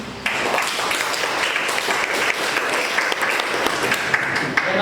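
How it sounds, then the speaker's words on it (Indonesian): Sustained applause from a classroom of people, steady and fairly loud throughout, with no speech over it. "Kita kasih aplaus dulu"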